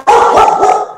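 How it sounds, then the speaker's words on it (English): A dog barks loudly and close by, giving a few quick, sharp barks in rapid succession with no other sound around them. "sorry about the dog."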